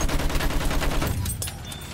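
An anti-aircraft gun fires at an enemy bomber in Battlefield 1, a loud, rapid run of booming shots in steady rhythm that thins out after about a second into scattered distant bangs.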